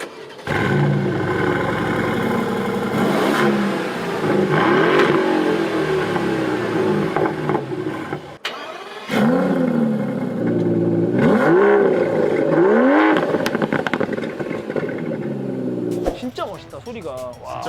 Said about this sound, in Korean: 12기통부터는 완전히 찢어지는 듯한 그런 소리가 나요